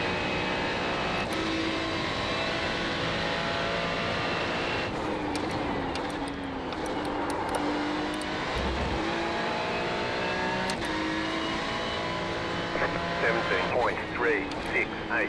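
Ferrari GT3 race car in the iRacing video game on the Charlotte Roval, its engine droning steadily with harmonic rises and falls through gear changes, dipping briefly mid-run before climbing again.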